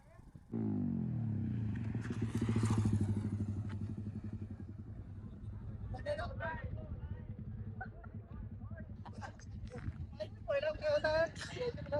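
Motorcycle engines rumble at a crowded bike stunt gathering for World Indigenous Day at Hanuman Point in Jawhar, a loud steady drone that fades into revving and passing bikes, with crowd voices in the background.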